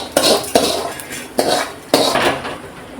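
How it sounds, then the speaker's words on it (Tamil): Metal cooking vessels clank and scrape as fried dried fish is moved into another pot while making a Kovai-style dried fish curry: four sharp knocks at an uneven pace over a steady background hiss. "இது ஃப்ரை ஆயிடுச்சு. இதை நம்ம வேறு பாத்திரத்தில் வச்சுக்கலாம்."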